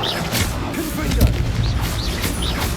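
Fiery Confringo spell blasts in Hogwarts Legacy, a string of booming explosive bursts amid chaotic combat, loud and close with crashing impacts layered through the clip.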